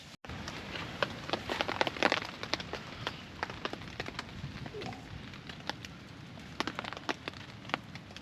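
Rain falling during wild camping in a storm, irregular sharp drops tapping close by on a surface, loudest early on, over a steady background hiss.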